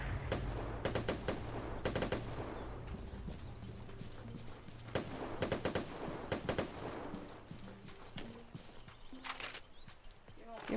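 Gunfire in the survival shooter game Vigor: repeated sharp bursts of shots, fairly loud and close, in clustered volleys over a steady low in-game hum, with several short gaps between the bursts.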